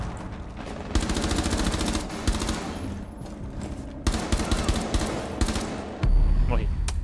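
Automatic weapon fire in the video game Rainbow Six Siege comes in loud, rapid bursts with short pauses between them. A heavier, booming shot lands near the end.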